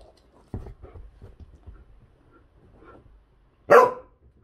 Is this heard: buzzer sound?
no